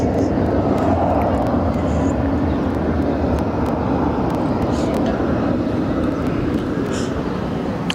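An Emirates airliner departing Barcelona airport roars steadily as a broad, continuous jet rumble. The noise stays loud and unbroken throughout.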